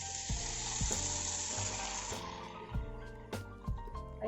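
Water poured into a pan of frying chicken with white pepper powder, hissing loudly in a broad sizzle that gradually eases, with a few knocks and stirring clatters.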